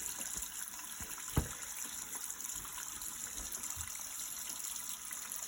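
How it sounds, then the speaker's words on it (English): Cold tap water running steadily over boiled eggs in a lift-out pot insert, a close hissing gush with a few small knocks and splashes, no talking. "And then I run them under cold water."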